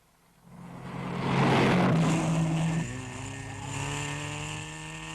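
A 1958 Alpine Rally car climbs a misty mountain road on the Col du Frêne, its engine swelling loudly as it approaches and passes, then settling into a steady, slightly fainter drone as it pulls away.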